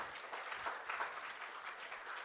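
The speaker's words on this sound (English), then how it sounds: "Another round of applause for Julio." Audience applause at a youth empowerment graduation ceremony, a faint, fairly distant patter of many hands clapping that carries on evenly for a couple of seconds without speech.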